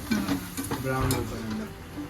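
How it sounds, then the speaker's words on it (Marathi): Cashews and onion sizzle steadily in oil in a pan with stirring scrapes, a low hum of frying running throughout, close and fairly loud. "काजू तेलात परतून घेतल्यानंतर कांद्यात मस्तपैकी फ्राय करून घ्यायचं ब्राऊन होईपर्यंत"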